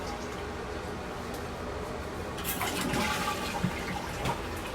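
A toilet flushes as its tank is drained during a flush valve replacement, heard as a steady rush of water that swells midway, fairly quiet and with no voices.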